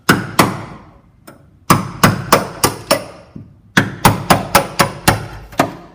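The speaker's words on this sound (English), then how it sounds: "you can get a hammer and a chisel and you can try and chisel it off" Sharp hammer blows striking a chisel to remove bitumen sound deadener from a car panel, close and loud, in quick rhythmic bursts separated by short pauses, with no talking.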